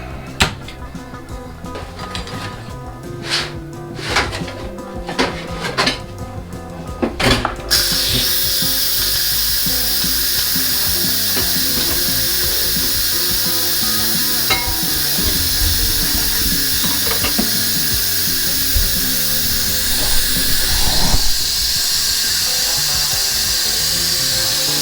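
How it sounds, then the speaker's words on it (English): An Instant Pot cooking BBQ ribs first gives a few sharp clicks and rattles, then its pressure valve releases steam in a loud, continuous, close-up hiss that runs steadily to the end. "now we gotta let the steam out of here"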